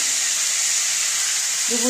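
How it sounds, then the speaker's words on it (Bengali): Two bay leaves hit hot oil and sizzle with a steady bright hiss, close and loud, and a voice begins speaking near the end. "দেখো তেলটা গরম হয়ে গেছে, আমি দুটো তেজপাতা দেবো"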